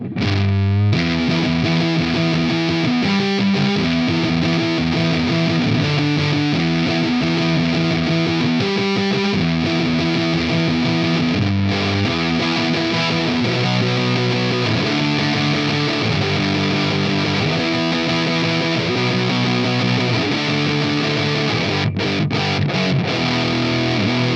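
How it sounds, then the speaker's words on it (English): Mooer MSC50 Pro electric guitar with heavy fuzz distortion plays a steady chord progression, loud and sustained throughout with no voices. "Let's hear it with a big fuzzy tone."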